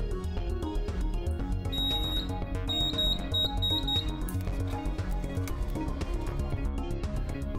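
A homemade alarm buzzer, wired to a simple switch, gives a steady high electronic tone in two bursts, a brief one then a longer one, over loud background music.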